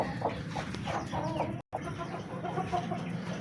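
An Aseel hen sitting on a clutch of ten eggs gives soft, low clucks and murmurs close by, with a brief dropout midway.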